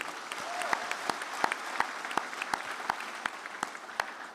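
A conference audience applauds, the claps landing in a steady, evenly spaced rhythm over a soft crowd background.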